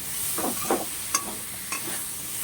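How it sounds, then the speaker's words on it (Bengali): Shrimp and spinach fry in a pan, hissing steadily while a spoon gives several distinct scraping stirs, close and clear with no voices. "এটাকে আমি এখন ভালো করে মানে ভেজে নেব একবারে"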